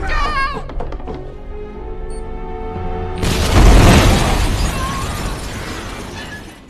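In a Jason Statham action film, a sudden heavy explosion booms with a crashing burst after a quieter tonal passage, then its wide roar slowly fades away.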